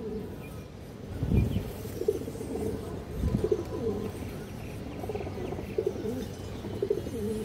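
Pigeons coo softly at a busy pigeon market, low repeated calls rising in short bursts over a steady crowd murmur and background chatter.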